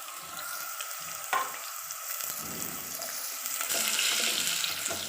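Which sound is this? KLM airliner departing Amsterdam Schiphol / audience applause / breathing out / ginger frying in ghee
ginger frying in ghee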